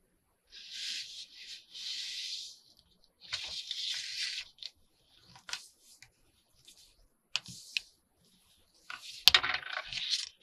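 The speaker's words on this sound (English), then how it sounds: "Okay, so we're going to fold it in half," Sheet of paper folded in half lengthwise for a fold-and-tuck multi-pocket craft, giving several soft crisp rustles and a sharp crease-pressing scrape near the end, close and alone.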